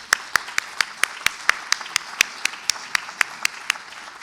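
An audience claps at a ceremony's opening address, a steady run of sharp, evenly spaced claps sounding close and fairly loud, with no talk over it.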